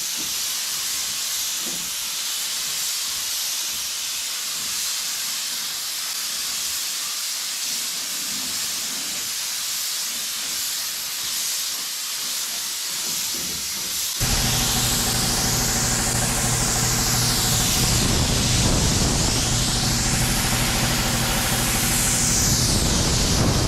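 A spray gun lays black paint on an old Chevy truck, a steady hiss that jumps sharply louder about halfway through and stays as a dense, close roar to the end.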